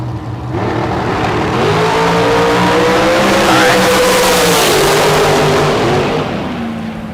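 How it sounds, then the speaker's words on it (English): A bracket race car at a drag strip roars loudly and continuously as it accelerates down the track, its engine pitch climbing through the run before tapering off near the end. "Taylor rolling up here in the Mullis car"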